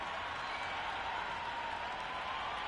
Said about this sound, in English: the crowd are going wild